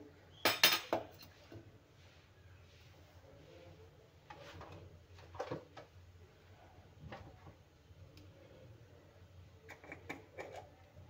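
A metal ladle clinks against a kadhai on a gas stove as oil is poured in. A sharp clatter near the start is followed by sparse, soft metallic taps and scrapes over a quiet room background.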